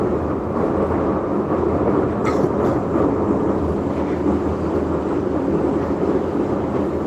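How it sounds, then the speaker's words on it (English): An older train rolls slowly along the rails, a loud, continuous low rumble and rattle of wagons passing close by, steady throughout with no talk. "Yeah, it's an older train."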